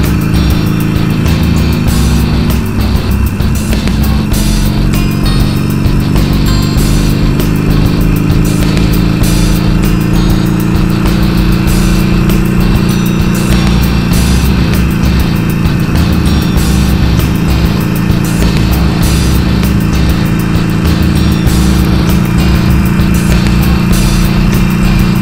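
A car engine drones steadily and loudly in too high a gear while driving on a road trip, a continuous low hum with road noise and no clear revving throughout.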